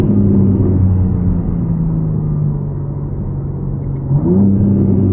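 A BMW G80 M3 pulls hard under acceleration, its engine droning with a steady rising pitch, then a quick gear shift causes a brief dip before the tone climbs again; loud and close, with no talking.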